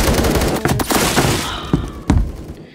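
Bursts of Scar PDW gunfire in a Roblox Phantom Forces match, several sharp shots and rapid volleys at close range over a dense, noisy battle backdrop, ending with a final loud report.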